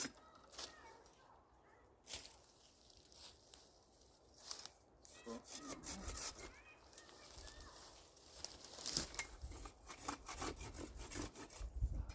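Pruning cuts through long growth on a ten-year-old apple tree, heard as scattered close woody snips and rasping saw-like rubs, growing busier toward the end.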